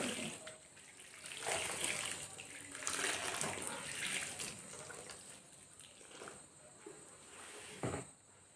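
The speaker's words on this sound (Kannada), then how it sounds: "ಇನ್ನೂ ಸ್ವಲ್ಪ ನಾನು ನೀರು ಹಾಕ್ತಾ" Water poured from a container onto coco peat in a basket: soft, quiet splashing and trickling in several short bursts separated by brief lulls.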